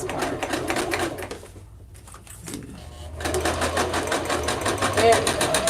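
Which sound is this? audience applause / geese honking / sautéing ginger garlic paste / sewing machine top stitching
sewing machine top stitching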